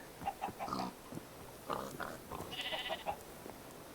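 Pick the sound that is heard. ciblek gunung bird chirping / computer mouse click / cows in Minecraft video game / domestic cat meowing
cows in Minecraft video game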